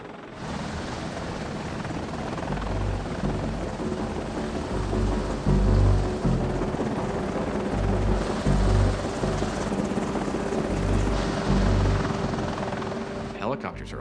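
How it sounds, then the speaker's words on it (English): Helicopter rotor thumping steadily close by for the whole stretch, a dense low beating chop under continuous broadband turbine roar that swells slightly in the middle, with no other sounds standing out. "Helicopters are awesome."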